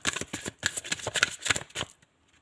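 Tarot cards are shuffled and drawn by hand. The dense, rapid riffling flutter sounds close and steady, then stops abruptly near the end, with no talking.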